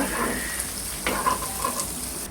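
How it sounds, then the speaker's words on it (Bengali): Chopped onion and garlic fry in a pan for a Bengali egg curry, giving a constant close sizzle with a few soft stirring scrapes partway through. Nobody speaks. "দিয়ে নাড়াচাড়া করে লাল হওয়া পর্যন্ত ভেজে নেব"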